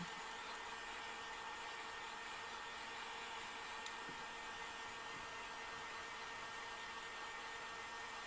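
A handheld dryer blows steadily to dry paint on a DIY swinging bunny craft kit, a constant, even whooshing hiss held for several seconds with no talk.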